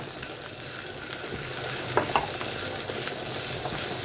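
Raisins and other ingredients sautéing in a hot pan, a steady loud sizzle and crackle with faint scraping stirs throughout, no voices.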